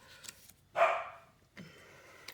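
A dog gives one sharp, fairly close bark in a quiet indoor room, followed a moment later by a softer, fainter sound.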